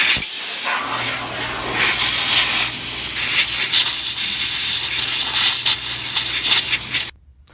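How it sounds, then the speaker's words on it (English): Compressed air hose blows steady, loud hissing around the drain plug and gasket surface of a Ford 6R80 transmission pan, running continuously for several seconds before cutting off abruptly. "you want to get in here with the air hose, if you have it, and start really cleaning out around the plug and the gasket surface itself"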